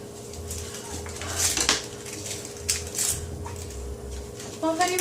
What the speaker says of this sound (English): I'm here chopping onions and dying.